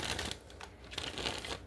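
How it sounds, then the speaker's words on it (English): A tarot card deck being shuffled, giving quiet, close papery riffles and crisp flicks in short bursts over about two seconds. "let's do 3 shuffles here"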